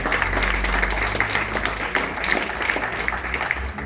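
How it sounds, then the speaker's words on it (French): Audience applause at a French public-employment event, clapping loudly for a guest: a dense, even wash of hands that continues steadily throughout over a low hum. "Je pense qu'on peut aussi l'applaudir très très fortement"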